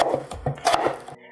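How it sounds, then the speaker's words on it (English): Potatoes are chopped with a knife on a cutting board, several quick close thuds in an uneven rhythm that stop abruptly after about a second. "Now let's chop up some potatoes."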